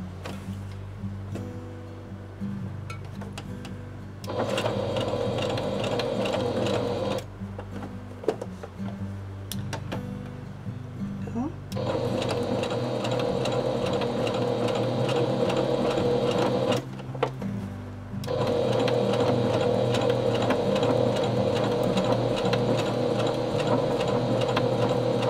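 A sewing machine stitches in close, steady runs of rapid mechanical ticking and whirring, starting and stopping several times with brief pauses between bursts while a tea cup pin cushion is made.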